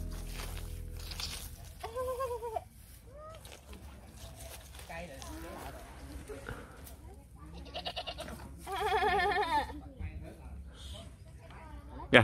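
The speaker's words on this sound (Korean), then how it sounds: "아, 염소?" Goats bleat several times in short wavering calls at a farm with bamboo nearby, loudest near the middle, while people chat casually over and between the animal cries.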